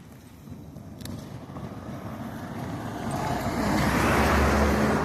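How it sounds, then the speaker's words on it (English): Car on a road approaches with a broad, steady whoosh that grows louder and closer toward the end, with no talking over it. "Car coming."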